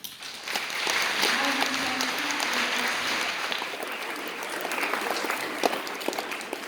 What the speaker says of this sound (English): can we have a round of applause to Mr. Sri Lanka